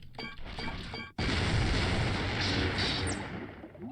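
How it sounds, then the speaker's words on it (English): A grenade detonates in the Star Wars Episode I: The Phantom Menace video game, a sudden loud blast that erupts after a brief lull and roars as a dense, sustained rumble before slowly fading. "Look at the size of that explosion."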